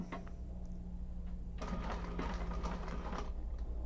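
A sewing machine in a quilting class runs on by itself, a steady mechanical stitching whir that surges louder partway through and keeps going without pause, with no talking over it.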